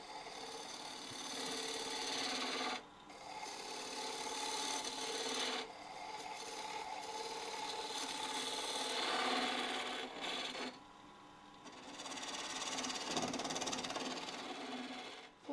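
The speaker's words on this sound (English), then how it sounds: "Now I'm going to switch to a 3/8 inch detail gouge." A 3/8 inch detail gouge cuts a wooden mortar spinning on a lathe, making a continuous close scraping, rasping hiss with brief pauses where the tool lifts off the wood.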